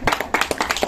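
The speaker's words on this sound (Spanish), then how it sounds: "Un aplauso." A short burst of brisk hand clapping, several people applauding close by in a quick, uneven rhythm.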